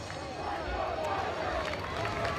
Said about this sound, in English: That woke up the crowd, that's for sure.